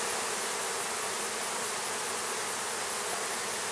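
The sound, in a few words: honeybees buzzing around an open hive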